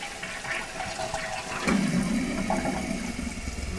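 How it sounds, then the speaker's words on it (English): A household toilet is flushed, its tank then refilling with a steady rush of water after a brief sharp clunk of the handle, continuous and close throughout. "Flush the toilet."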